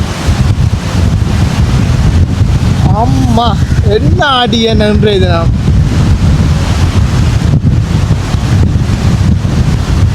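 A stormy sea sends waves crashing under strong wind, a loud, constant wash of surf and gusts battering the microphone, with a person talking briefly partway through.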